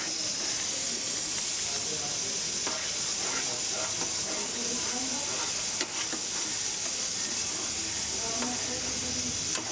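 Raw mango pulp starts to boil in a pan, making a continuous hissing, sizzling bubble with faint scattered pops and scrapes throughout.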